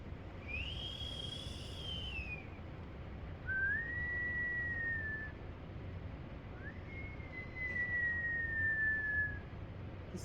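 A person whistles three long sustained notes, the first sliding down and the next two level and gently rising, to call animals; clear and close over a soft low background hum.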